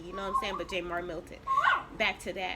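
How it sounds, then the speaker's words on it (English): A dog whimpers and yips in short, high, wavering cries, heard mixed in with a person talking nearby. "That's my dog."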